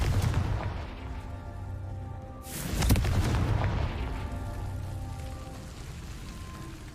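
Confringo blasting spell in the video game Hogwarts Legacy, a single heavy explosive boom landing midway through, set against a continuous rumbling, rain-like game ambience and loud throughout.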